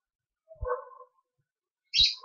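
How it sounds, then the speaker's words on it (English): A dog barks faintly outdoors, heard through an open door, giving two short, separated yelps with quiet gaps between them and a bird-like chirpy edge. "Y'all hear the dog?"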